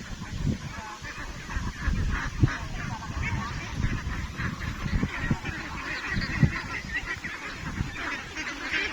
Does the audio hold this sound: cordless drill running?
no